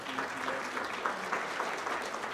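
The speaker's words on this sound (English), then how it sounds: "Can we get a round of applause for our gorgeous" An audience at an evening awards gala applauds steadily, a soft, continuous wash of many hands clapping from a distance, with a few louder claps popping through.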